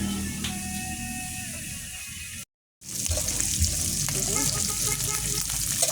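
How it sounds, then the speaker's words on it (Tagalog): Pork fat sizzles loudly on a grill at a Korean samgyupsal table, a dense crackling fry with popping spatters, cut by a brief silent gap before resuming close up. "Luto na tayo ng ating mga taba."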